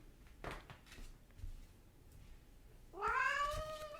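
A cat meows loudly and clearly near the end, a drawn-out rising-and-falling call after a few seconds of quiet room sound with faint thumps, close to the listener and with no one talking.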